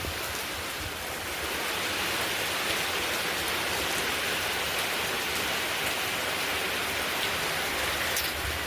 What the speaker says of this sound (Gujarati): અને ધમધોકાર વરસાદ વરી રહ્યો છે.